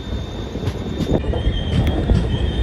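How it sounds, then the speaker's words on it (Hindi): The Devagiri Express rolls into Parbhani Junction, a loud rumbling rush of railcars with a thin high wheel squeal running steadily over the clatter, close and continuous. "हमारी जो ट्रेन है वो अब पहुंच चुकी है परभनी जंक्शन रेलवे स्टेशन"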